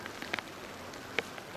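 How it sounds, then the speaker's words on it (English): Rain pattering onto an outdoor camera, heard as a soft steady hiss broken by a few sharp close drop hits, including one louder tap near the end, with no talking. "The camera's getting rained on"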